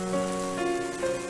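Rain patters steadily in the video game Doll Part, a soft continuous hiss that sits beneath sustained tonal music throughout.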